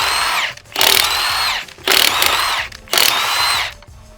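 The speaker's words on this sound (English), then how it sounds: "We'll pop this thing off, this impact wrench." A Milwaukee 2769-20 impact wrench removing a wheel lug nut gives three loud, close bursts of whirring, rattling hammering, each lasting under a second with short pauses between.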